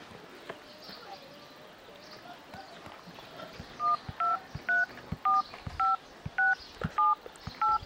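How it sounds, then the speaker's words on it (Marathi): Telephone keypad dialing tones, a quick series of about eight short, evenly spaced beeps near the handset, following a stretch of quiet room noise with faint background sounds. "गणेशच्या मास्तरला फोन लावा ना जरा."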